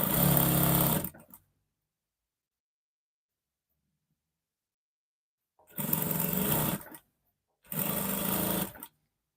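Sewing machine stitching a seam on a bubu gown, three separate runs of fast, even motor-driven stitching, loud and close, with silent pauses between them.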